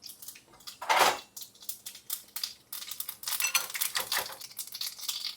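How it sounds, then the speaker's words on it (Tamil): Mustard seeds sizzling and popping in hot ghee in a pan while lemon rasam is cooked, with sharp crackling bursts and spluttering that come irregularly and build toward the end, with no talk. "நெய் விட்டு கடுகு போட்டுடணும், கடுகு பொரியணும் நல்லா."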